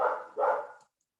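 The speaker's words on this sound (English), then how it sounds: "Sorry about my dog, by the way." A dog barks twice in quick succession indoors, moderately loud and close, then silence.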